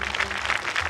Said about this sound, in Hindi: अच्छे से ताली बजाओ।